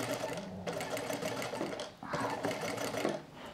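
A sewing machine stitches a dress in fast, steady rhythmic runs close by, pausing briefly midway before resuming, with a voice talking over it.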